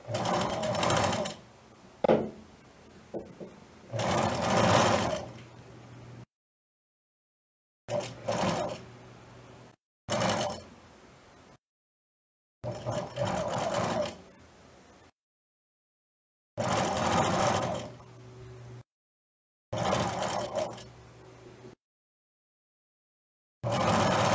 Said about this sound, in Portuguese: com essa técnica, você pode costurar pelo avesso, vendo onde você está costurando